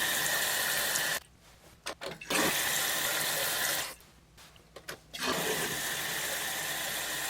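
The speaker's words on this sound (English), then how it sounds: "just open the flap a little bit to allow a little bit of water to escape" Water rushing steadily from a toilet tank through a partly opened flap during a fill valve replacement, broken twice by short near-silent gaps before the flow resumes at full strength.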